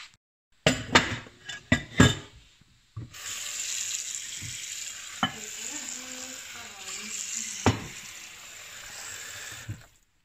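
Dishes being washed after a meal: a few sharp clinks of plates and cutlery, then a running tap and sloshing water with more scattered knocks, close and fairly loud.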